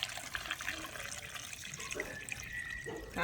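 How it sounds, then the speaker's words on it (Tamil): Eggplants washed under running water in a kitchen sink: a steady splashing stream from the tap, close and continuous, with small shifts as the vegetables move under it. "நாங்கள் இப்போ கத்தரிக்காயை கழுவி எடுப்போம்."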